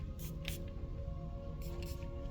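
A face spray spritzes twice onto a client's face during a pumpkin mocha facial, two short airy hisses close by with a low steady hum underneath.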